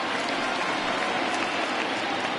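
Large stadium crowd cheering in a baseball video game, a dense, steady roar of many voices and applause, loud and unbroken throughout.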